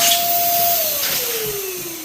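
An electric balloon inflator pump runs continuously while filling two balloons at once, a loud steady motor whine whose pitch slowly drops as the balloons swell, with no talking.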